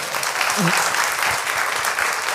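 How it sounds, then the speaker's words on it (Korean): Loud, continuous applause from a studio audience at a Korean humanities-and-science talk show, a full crowd clapping steadily with a voice briefly heard over it. "박수 한번 부탁드립니다"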